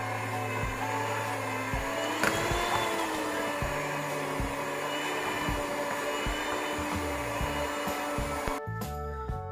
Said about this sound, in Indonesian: Kemudian kita aduk lagi pakai mixer dengan kecepatan tinggi